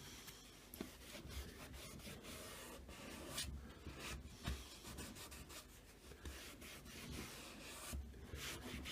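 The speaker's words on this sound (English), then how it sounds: "We get a dry cloth and just wipe away the residue." A dry cloth rubs briskly back and forth across a hard surface, wiping off black permanent marker residue, with soft, close scuffing strokes in an irregular rhythm and no voices.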